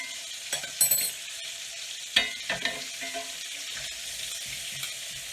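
A pan-seared steak cooked with onions sizzles steadily while a spoon bastes it, with a few sharp clinks and scrapes of metal on the pan standing out over the soft, continuous frying.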